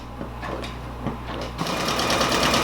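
A Brother Persona embroidery machine stitches a patch with a rapid, mechanical needle rattle that starts softer with a few clicks, then grows louder and denser partway through, running steadily and close with no voices.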